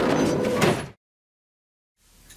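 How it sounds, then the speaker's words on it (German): A door is pushed shut with a loud heavy thud that stops abruptly, then silence, and faint room noise returns about a second later. "verriegeln Sie die Tür!"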